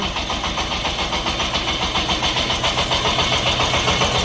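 A Shifeng 350 mini tractor's small single-cylinder engine runs steadily up close, its rapid regular chugging pulses continuous throughout with no voices.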